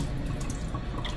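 Tap water runs steadily into a sink while a betta fish is rinsed clean, a continuous close splashing rush with a few drips and no talk.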